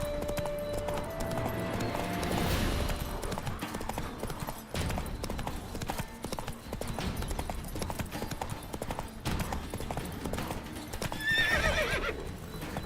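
Roach, the horse in The Witcher 3 video game, gallops in a steady rapid hoofbeat rhythm over game ambience, with a whinny near the end.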